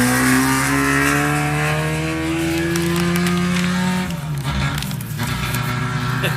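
An air-cooled Volkswagen off-road race car engine at a desert-style qualifying event, a loud nasal drone that climbs steadily in pitch, then drops as it shifts and pulls away.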